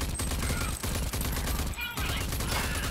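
Rapid gunfire from enemies in the video game Rage 2 sounds as dense, continuous bursts of shots, loud and close, with a brief break near the middle and a player talking over it.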